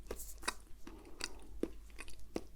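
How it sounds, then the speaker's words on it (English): Close, quiet chewing with the jaw working in a slow cud-chewing motion during a medical-style cranial nerve exam roleplay, with several soft moist crunchy bites and clicks spaced through the moment. "can you chew like a cloven animal, a hoofed animal?"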